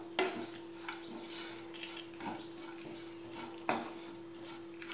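Rice is stirred in a metal pan for Tamil-style coconut rice, giving repeated scraping and clinking of a utensil against the pan at close range, with a few sharper knocks over a steady low hum.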